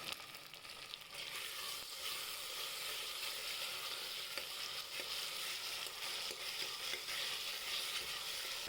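Cloves, cinnamon and cardamom sizzle steadily in hot oil for rajma masala, a dense, even crackle filling the whole stretch with no voices.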